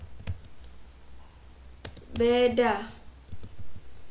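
Key clicks from typing a MATLAB script on a computer keyboard, several light taps near the start and end around a short burst of speech.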